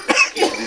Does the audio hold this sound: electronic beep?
no